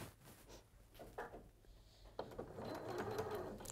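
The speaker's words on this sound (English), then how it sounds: "I'm sewing it in the opposite direction, effectively making a grid." A sewing machine runs steady stitches across fabric strips laid in a grid, a soft uneven whirr at first that swells into a louder continuous hum in the second half, with no one talking.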